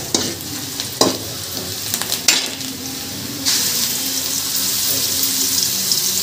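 Ginger-garlic-onion paste frying in oil with browned onions for a mushroom curry, a steady sizzle with a few sharp clatters early on, then the hiss swells louder and stays broad and even.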